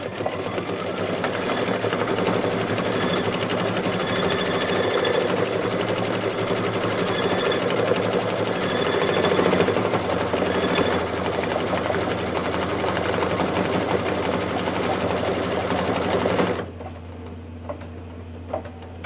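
Embroidery machine stitching a design in green metallic thread, a loud continuous rapid mechanical chatter that runs steadily for over sixteen seconds and then stops abruptly, leaving quiet room tone.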